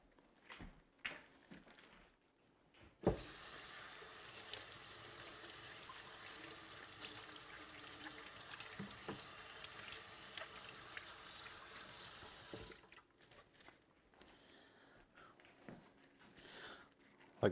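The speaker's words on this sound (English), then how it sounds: "so I'm going to rinse these off." Kitchen tap water runs steadily into a sink for about ten seconds while vegetables are rinsed, then shuts off. Quiet handling noises come before and after.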